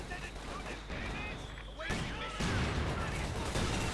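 Mortar rounds and gunfire from a Company of Heroes 2 real-time strategy battle, a mortar firing at close range near a collapsing church, heard as dense continuous bursts and booms that grow louder toward the end.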